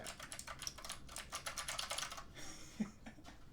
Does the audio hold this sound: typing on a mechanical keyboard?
yes